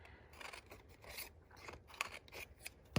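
Scissors snip close and quietly into the center of a paper flower template between the petals, a series of soft crisp cuts and rustles with a sharper snip near the end.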